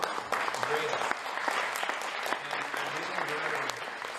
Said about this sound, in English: So I know we all applaud for David.